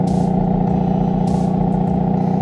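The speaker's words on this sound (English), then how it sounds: "you have your exhaust, this exhaust. I mean, just listen to the rumble" A Hyundai Elantra N idles with a deep, steady exhaust rumble, loud and close. A continuous low drone runs throughout, and faint higher hiss briefly rises twice.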